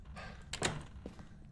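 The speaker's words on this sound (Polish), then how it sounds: "ktoś drzwi otwierał, ja nie żartuję." A door creaks open in the Phasmophobia ghost-hunting game, a single short thunk with a brief scrape, moderately close and fairly quiet against a low room hum.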